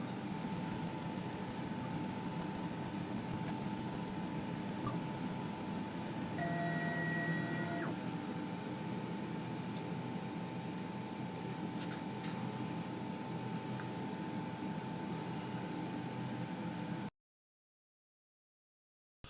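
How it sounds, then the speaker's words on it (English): A MonPort 80W CO2 laser runs with its cooling fan, making a steady broadband whir and hum with a faint tonal whine, continuous until it cuts out abruptly near the end. "From the moment you switch that laser on, the fan is running."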